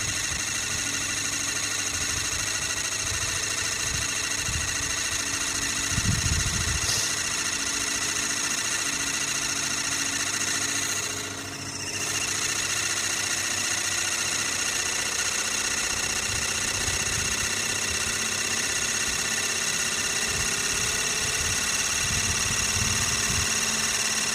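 A Sirius steam engine generator running on test makes a steady, broadband mechanical hum with constant vibration and faint rhythmic knocking. Brief louder thumps come near the start, and the sound stays continuous and fairly close throughout, with no talking.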